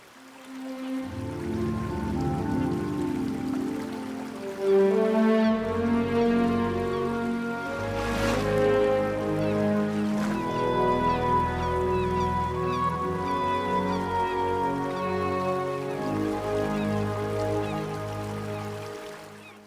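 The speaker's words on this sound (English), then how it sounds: "Huge numbers of Canada geese pour onto the tundra." Large flocks of Canada geese honk on ice-free tundra lakes, many overlapping nasal calls rising and falling over a steady watery background, with no talking.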